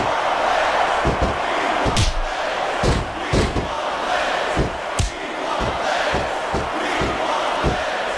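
A video game arena crowd roars steadily during a women's submission wrestling match in WWE SmackDown vs Raw 2006. Sharp thuds of bodies slamming and impacts punctuate the cheering at irregular intervals.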